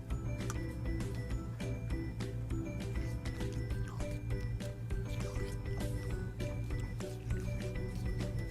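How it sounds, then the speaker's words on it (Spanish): Water poured out during children's pretend cooking play, a steady liquid trickle with drips and small squishy clicks running continuously, close and fairly quiet. "voy a dar toda el agua que tiene aquí."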